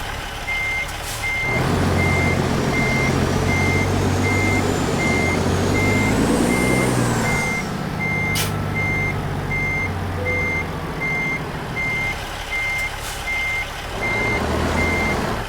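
A truck backing into a parking spot in American Truck Simulator sounds a steady, evenly spaced reversing beep over a loud idling engine rumble, with a brief air brake hiss.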